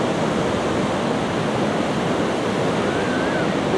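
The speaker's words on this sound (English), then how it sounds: "And the tide's coming in. We are at the Pacific Ocean." Pacific Ocean surf at Seaside Beach, Oregon, with the tide coming in, a loud, steady, unbroken wash of breaking waves that fills the whole stretch without any pause.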